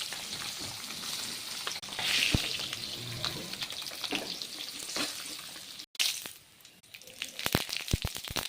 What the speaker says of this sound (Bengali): মাছের ডিম আছে না, তো প্রচন্ড ছিটছে, গায়ে আসছে